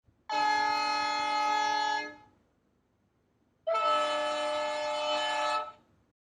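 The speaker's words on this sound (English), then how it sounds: "First, the two horns with normal presses of the function button." Model train horns from a LokSound decoder sound slot sound twice, each a loud, sustained multi-tone blast of about two seconds separated by a short silence.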